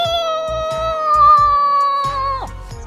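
A cat meows repeatedly in a video game, the calls running as steady tonal cries over a pulsing game soundtrack, loud and close without any talking.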